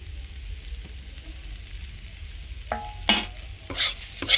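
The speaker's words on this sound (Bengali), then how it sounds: "নাড়িয়ে নাড়িয়ে জল শুকিয়ে নিতে হবে।" Banana flower mixture in a pan gives a low, soft simmering sizzle, then a few sharp stirring scrapes and clinks arrive near the end as it cooks down, no voices.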